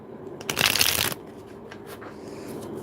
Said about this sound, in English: I'm going to shuffle this since it fell.